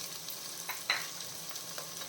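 Chopped onions tipped into a pan for chicken curry sizzle faintly over a quiet low hiss, with a few soft stirring scrapes and one brighter clink of a utensil against the pan.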